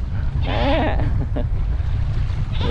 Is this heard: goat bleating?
yes